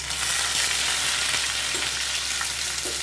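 Cinnamon pieces, cloves, cardamom and ginger-chili paste fry in a pan with a loud, close, steady sizzle, punctuated by a couple of soft stirring scrapes.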